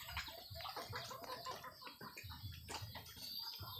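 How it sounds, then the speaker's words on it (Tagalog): Several chickens cluck softly and continuously nearby, a busy, murmuring flock sound with scattered short calls. "Marami akong manok dito."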